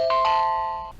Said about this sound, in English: you can also make the camera just ring.